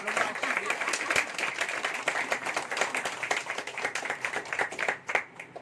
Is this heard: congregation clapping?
yes